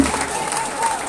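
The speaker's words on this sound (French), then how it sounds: "je vais vous demander demander de vous acclamer très très fort" Crowd at an outdoor political rally in Bobo-Dioulasso applauding and cheering loudly, a steady wash of clapping with voices mixed in throughout.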